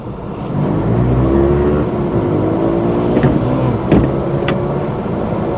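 Engine of a Hyundai Amica CDX small car strains under hard acceleration while racing a van, a loud steady drone rising slowly in pitch, heard from inside the cabin with a brief clunk partway through.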